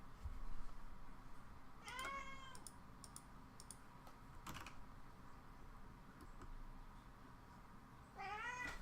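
A house cat meows twice, short rising calls several seconds apart, near and clear, while computer keyboard typing and clicks go on quietly underneath.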